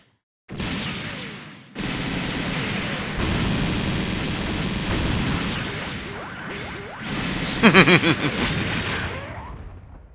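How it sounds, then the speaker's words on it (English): Missile volley explosions from the Gundam game SDGO, fired by a Gundam Leopard Destroy: sudden loud bursts and crashes rolling into sustained booming rumble, with a cluster of sharp rapid impacts near the end. "nice missile volley"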